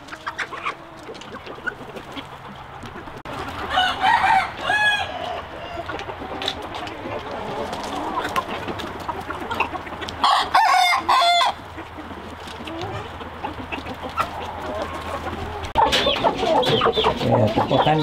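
Chickens on a Hmong American chicken farm cluck steadily and crow now and then, a dense flock chorus with roosters calling out over continuous background clucking, no talking.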